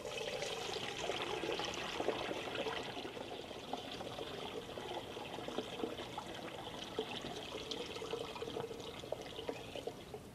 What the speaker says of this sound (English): Pour it in our TruTech 1000 sprayer.